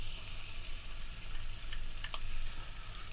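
Tomatoes sizzle softly in olive oil with garlic for a Spanish rice dish, a faint, steady frying hiss with a few light clicks and stirring sounds; no voices.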